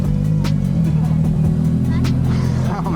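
At a car show in BGC, a Nissan GT-R rolls past with a loud, close engine rumble that swells into a short rev, while nearby voices chatter throughout.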